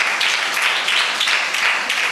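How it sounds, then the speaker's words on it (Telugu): A church congregation at an anniversary service claps loudly together, a close, dense applause that swells in rhythmic pulses for two seconds. "అందరూ గట్టిగా చప్పట్లు కొట్టండి"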